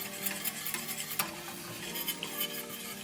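A utensil stirs a Parmesan cream sauce with milk in a pan, giving close, soft scraping and swishing with light clinks against the pan and a faint sizzle underneath.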